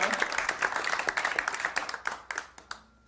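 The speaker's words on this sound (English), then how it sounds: "Applause is so weird to me" A small folk-show audience claps for a few seconds after a song, a quick patter of hands that thins out and fades to quiet near the end.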